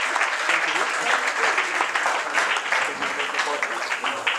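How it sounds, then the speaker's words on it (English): Guests at a 60th birthday party applaud in a dense, steady burst of clapping, with cheering and voices mixed in. "Give Max a big round of applause"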